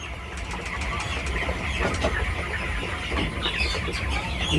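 Broiler chickens clucking inside a farm shed, a continuous chorus of soft overlapping calls over a low mechanical hum, moderately loud and close, with no talking.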